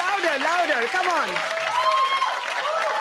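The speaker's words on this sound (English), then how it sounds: "I think he deserves a bigger round of applause." A crowd gives Shashi Tharoor a sustained round of clapping, a continuous wash of applause with a voice speaking loudly over it.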